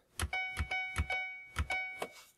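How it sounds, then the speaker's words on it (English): Commodore 128 Control G bell: five short, bright metallic dings, each with a soft thump at the start, spaced unevenly and ringing out cleanly with nothing else heard. "So the C128 supports the Control G bell,"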